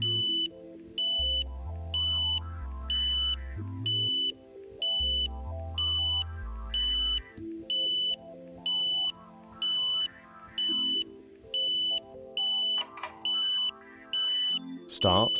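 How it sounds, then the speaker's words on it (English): KA-SAT satellite modem pointing tone on a rooftop pole dish installation: a repeating two-level electronic beeping, pulsing in a steady on-off rhythm with high harmonics, loud and continuous over a low hum, with a brief rustle near the end. "You hear the ambulance tone again."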